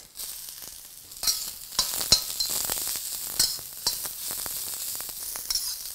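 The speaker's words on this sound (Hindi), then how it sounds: "इसमें जाएगा ऑयल ऑयल में हम डालेंगे थोड़ा सा चॉप्ड गार्लिक थोड़ा सा चॉप्ड जिंजर और अनियंस" Chopped garlic, ginger and onions hit hot oil in a pan for veg chowmein, giving a loud, continuous sizzle broken by repeated stirring clicks and scrapes.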